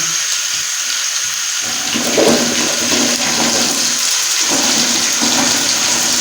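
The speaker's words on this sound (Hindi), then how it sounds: "तो अभी हम इसमें गोभी डाल देते हैं।" Cauliflower pieces dropped into hot oil in a frying pan for gobi masala, giving a loud, steady sizzling hiss that surges around two seconds and keeps crackling close by without any voice.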